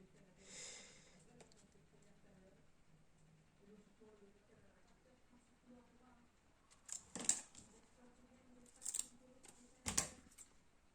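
A few sharp scissor snips cutting through card near the end, preceded by quiet handling and soft breathing, with a voice speaking softly earlier.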